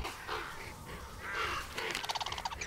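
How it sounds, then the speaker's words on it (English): A crow caws in the video game Tearaway Unfolded, a rapid series of sharp, evenly spaced croaks near the end, following softer airy game ambience, fairly quiet overall with no speech. "That crow is taunting us."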